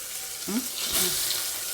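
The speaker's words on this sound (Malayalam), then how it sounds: "കുക്കർ നല്ല ചൂടായിട്ടാട്ടോ ഒഴിച്ചിട്ടുള്ളത് എന്നിട്ട് അതിൽക്ക് കുറച്ച് സവോള ഇട്ടിട്ടുണ്ട്" Sliced onions sizzle in hot coconut oil inside a pressure cooker, a steady close hiss with a brief stirring scrape partway through.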